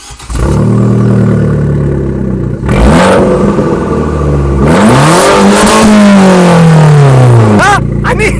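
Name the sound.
Abarth 595 Competizione 1.4 turbo petrol engine hot start and revving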